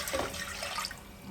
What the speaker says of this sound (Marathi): पाणी आता त्याच्यामध्ये आपल्याला पाणी ओतायचं आहे